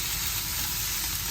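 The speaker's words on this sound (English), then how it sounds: "Basically we want to stir fry it." Paneer and vegetables sizzle while being stir fried in a pan, a steady, faint hiss of frying with no voices.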